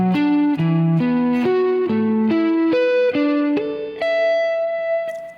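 An electric guitar with heavy distortion plays a scale pattern in a diagonal shape, stepping steadily down the strings note by note in an even rhythm, loud and sustained with no talking.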